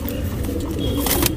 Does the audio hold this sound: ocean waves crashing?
no